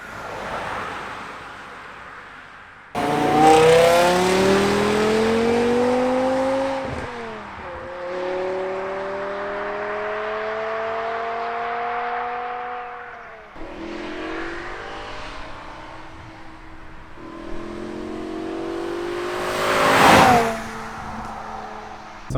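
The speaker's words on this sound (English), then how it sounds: "You just give it a little bit of throttle and you can hear the intake noise, the exhaust sound" BMW E60 M5 with its V10 engine and 6-speed gearbox accelerating on the road, loud intake and exhaust rising in pitch through several long pulls with gear changes between them, close and alone.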